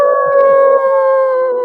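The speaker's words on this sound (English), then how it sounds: "Cue the howl." A steady, loud howl sound effect holds on a sustained wavering tone for under two seconds, with no voices.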